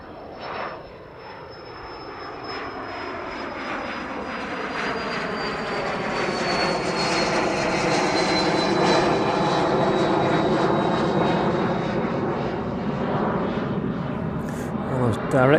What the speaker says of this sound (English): Almost directly overhead as it departs from East Midlands.